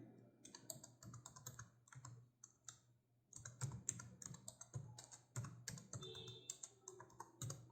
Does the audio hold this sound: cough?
no